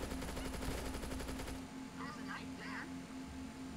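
Gun fired in the video game VRChat: a fast burst of rapid, rattling automatic shots at close range, stopping after about a second and a half. A voice is heard faintly beneath.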